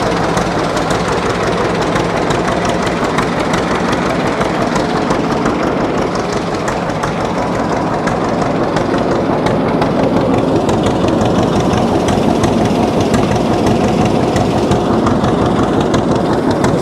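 A 1948 John Deere D tractor with a straight pipe runs continuously with a dense, rumbling engine drone. The sound is loud and steady throughout, with a rattling texture and no talking.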